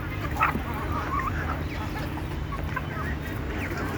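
Domestic hens in a yard, including one around five years old, give scattered clucks and short honk-like calls over a steady low hum, fairly faint and without speech.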